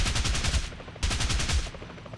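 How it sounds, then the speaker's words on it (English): In War Thunder, a machine gun fires two rapid bursts of about three-quarters of a second each, loud and sharp, separated by a brief pause. "then you get this awesome machine gun"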